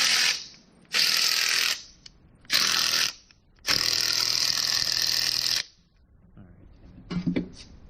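A ratchet is worked during a mechanical repair, giving several long, loud bursts of fast clicking separated by pauses, with a few softer clanks near the end.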